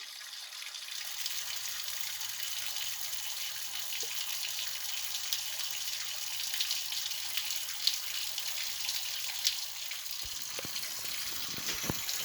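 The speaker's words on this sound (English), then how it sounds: "when I open this valve, you'll see how much water pours out" Steady rushing of water pouring from an opened steam boiler valve in a continuous stream, fairly loud and constant throughout, with a few faint clicks near the end.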